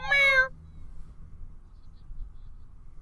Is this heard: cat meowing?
yes